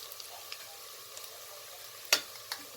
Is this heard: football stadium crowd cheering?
no